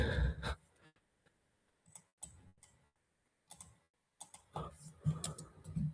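Someone types election results into a computer keyboard during a livestream of Arkansas primary results, with irregular bursts of key clicks separated by quiet gaps and a soft sigh or breath at the start and end.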